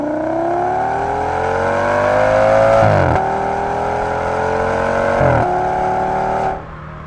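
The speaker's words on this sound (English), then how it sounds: "with a tasteful exhaust setup, it makes a unique, beautiful sound." An Audi S6 with a 5.2 V10 and aftermarket exhaust, six-speed automatic and all-wheel drive, pulls hard through the gears: a loud, smooth rising howl broken by two quick upshifts, then cutting off near the end.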